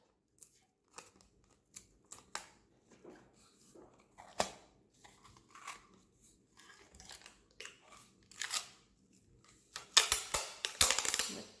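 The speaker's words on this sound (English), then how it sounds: "Just going to secure it with another piece of tape." Tape being torn and pressed down to secure a small paper cylinder at a home maker craft table, a series of faint scattered crinkles and snips ending in a louder burst of tearing and rustling.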